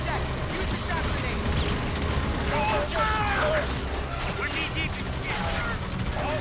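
Heavy gunfire in Call of Duty: Infinite Warfare, a steady barrage of rapid automatic shots and distant blasts rolling under frequent talking and radio chatter, dense and continuous.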